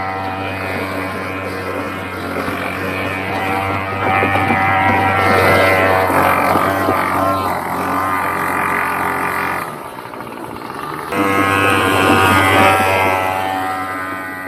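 The two-stroke engine of a giant DIY remote-control jeep, running rich on oil, buzzes steadily and loudly nearby. It dips briefly near the end, then picks back up to a raspy drone.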